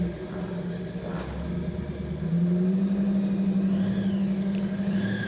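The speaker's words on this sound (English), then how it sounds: "Coming out next, we have a 69 Opel GT" A 1969 Opel GT car drives out at a roadside anniversary event, its engine humming and rising in pitch as it pulls away, moderately close with steady rumble.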